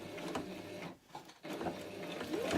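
A sewing machine runs in short bursts attaching rick-rack trim around fabric for a pencil roll, its fairly quiet mechanical hum broken by a brief pause midway.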